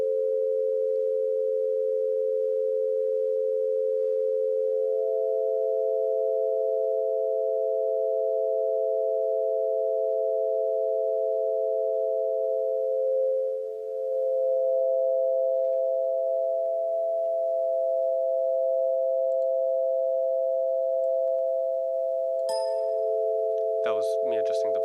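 Steady, sustained feedback tones from a kinetic sound art installation hold two close pure pitches for over twenty seconds, with a slight shift in pitch partway through and a brief burst of clicking noise near the end.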